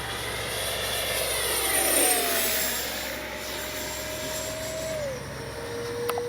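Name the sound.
Freewing 70mm F9F Panther RC jet flying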